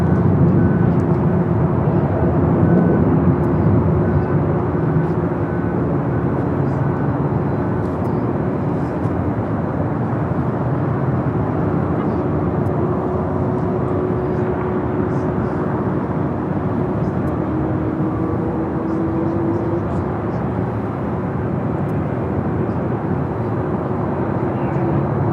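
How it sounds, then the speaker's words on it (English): A United Boeing 787-10 Dreamliner rolls down the runway at LAX, heard as a steady, continuous jet engine roar that stays level throughout, with no clear voices. "Southside United Dreamliner, 787-10 Dreamliner, rolling down the 25 right."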